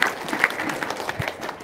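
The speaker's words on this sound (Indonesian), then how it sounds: "tepuk tangan dong, luar biasa." Audience applause in a seminar gathered with an Islamic teacher, a brief spell of steady clapping, moderately loud with a couple of sharper claps and faint voices underneath.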